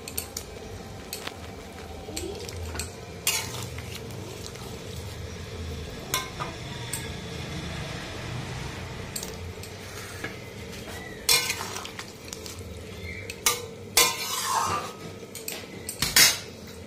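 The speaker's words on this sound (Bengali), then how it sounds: "এখন ঝোলটা ফুটে গেছে, মাছগুলো সব দিয়ে দিলাম।" Catla fish kalia curry in a pot, stirred with a metal utensil: soft bubbling and frying under intermittent clinks and scrapes against the pot, close and fairly quiet.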